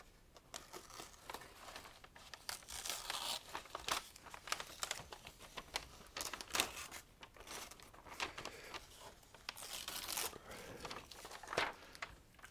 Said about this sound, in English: Maybe I should take this tape off